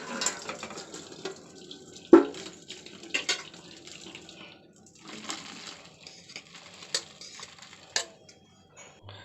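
Water pours and splashes as freshly boiled homemade wheat noodles are drained in a kitchen, with a loud clatter of a pot or strainer and irregular sloshing bursts.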